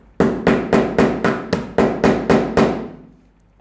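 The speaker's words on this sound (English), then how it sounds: "So just hammer there" A hammer strikes a 9 volt battery in eight sharp, evenly spaced metallic blows about a third of a second apart, loud and close with no talking, each ringing briefly before the next.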